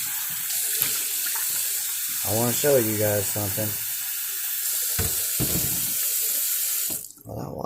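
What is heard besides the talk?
tap water running into a sink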